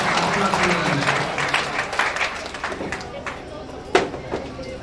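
Applause from the audience at a company's 19th Foundation Day celebration, a dense wash of clapping for the first few seconds that thins out, with a voice speaking over it.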